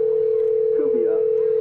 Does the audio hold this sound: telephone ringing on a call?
yes